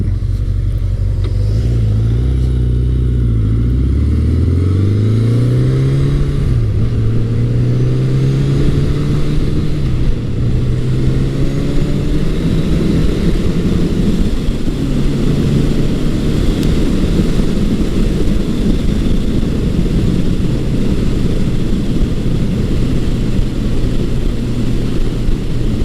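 A 1980 Honda CB900 Custom motorcycle engine fitted with an aftermarket exhaust pipe revs up from idle, rising in pitch and settling into a loud, steady, throaty run close by on a cool day, with no talk over it.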